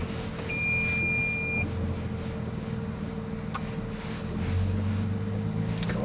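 A 2023 Toyota Sequoia TRD Pro drives off-road through a water crossing at a steady speed, giving a continuous low engine rumble under a broad rushing wash of water and wind noise.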